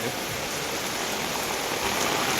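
Heavy rain beats down on a terrace in Kudal, a thick, steady hiss of drops striking the surface close by, with no breaks and no voices.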